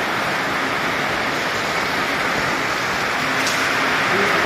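Heavy rain and strong wind outside a coffee shop during a storm, a loud, dense, unbroken roar of pouring water and gusts filling the whole stretch, with no clear voices.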